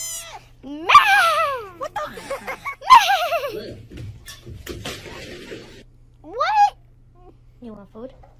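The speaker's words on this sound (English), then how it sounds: "Look at that dog." A dog barks and yips in several short, sharp bursts, loud and close, with whimpering rises between barks and a steady low hum behind.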